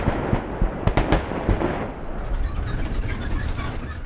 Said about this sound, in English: With each powerful explosion,